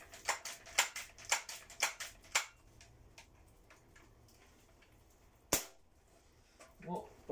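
A Crosman Pumpmaster 760 air rifle, a .177 (4.5 mm) pneumatic gun found in an attic, clacks sharply about seven times in a steady rhythm, close and loud. A single harder snap follows after a pause, then a faint soft noise.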